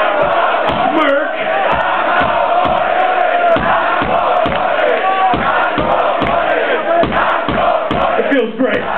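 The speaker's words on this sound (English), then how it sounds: "Now everybody's just talking amongst each other." Concert crowd at a show at Penelope in Madrid, loud and close, a dense mass of shouting voices with rhythmic surges and chants rather than music.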